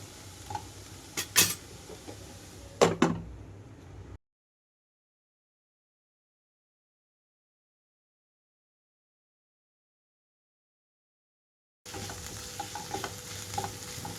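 Cabbage fries dry in a pan, a close sizzle with a few sharp clinks of a stirring spoon, broken by a long stretch of silence before the frying resumes.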